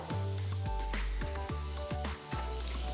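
Finely chopped capsicum sizzles in a hot pan with pav bhaji masala and spice powders, a loud steady fry broken by repeated stirring scrapes and spatula knocks.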